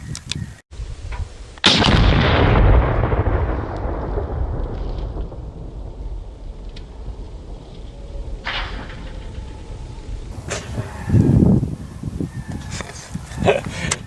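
A rifle shot sets off a binary explosive beneath a cheap metal mailbox, producing one massive booming blast that rolls and echoes away for several seconds outdoors, followed by faint debris sounds and distant voices.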